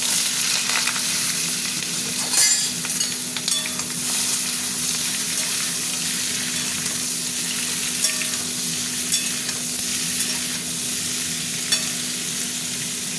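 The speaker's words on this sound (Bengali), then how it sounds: "ভাজা হতে থাক" Papaya crackles and sizzles in a hot pan with green chillies, a continuous frying hiss with occasional sharper pops and stirring scrapes, close by.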